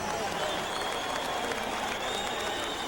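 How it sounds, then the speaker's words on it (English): A boxing arena crowd applauds challenger Vinny Pazienza after the fight, a dense wash of clapping and cheering filling the hall, steady and loud throughout, with an announcer's voice carrying over it. "A round of applause for the game challenger who came in here tonight"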